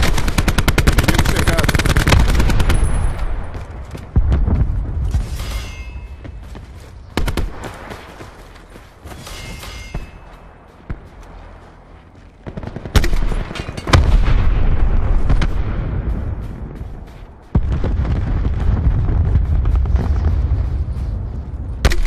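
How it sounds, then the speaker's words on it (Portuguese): Rapid automatic gunfire and booming blasts from the video game Call of Duty Black Ops 4, loud bursts that stop and restart several times, with in-game voices speaking in between. "Disparando para valer."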